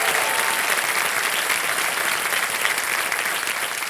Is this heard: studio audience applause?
yes